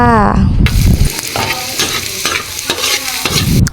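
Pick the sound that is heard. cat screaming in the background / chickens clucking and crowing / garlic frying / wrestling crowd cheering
garlic frying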